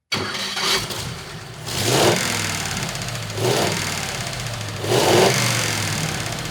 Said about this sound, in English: And here's the engine complete on the dyno.